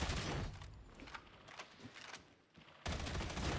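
Autogun fire in Warhammer 40K: Darktide, dense rapid automatic bursts that start loud, thin into scattered shots and a short lull, then resume in a full sustained stream.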